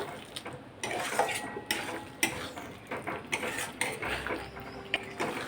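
Ridge gourd with green chilies being stirred in a pan, repeated close metallic scrapes and clinks of a utensil against the pan in an uneven rhythm, no voices.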